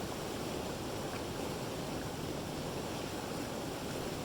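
Steady, close rush of Fish Creek water spilling over rocks near a waterfall, a constant broadband roar holding an even level throughout with no voices.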